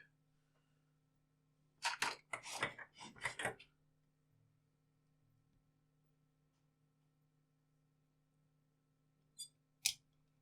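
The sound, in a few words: trimming a wire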